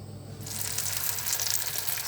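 A steady, close sizzle of boiled sausage frying in a hot pan, starting softly and building to a constant crackling hiss.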